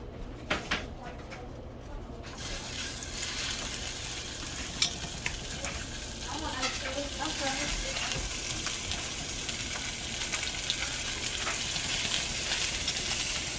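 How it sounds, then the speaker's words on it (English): Beef pieces for beef bourguignon sear and brown in a hot pan with fat, giving a steady, loud sizzle and crackle that continues throughout with a few soft clinks near the start. "now it's time to start browning the pieces of meat"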